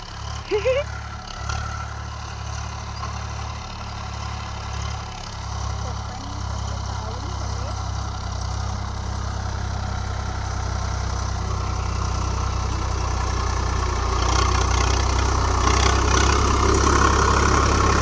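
A tractor engine runs steadily while levelling soil in a field, a constant low rumble that grows slightly louder, with talk over it.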